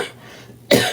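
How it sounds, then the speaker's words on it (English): A woman lets out one sharp, close cough that bursts suddenly after a near-silent pause. "There goes that cough."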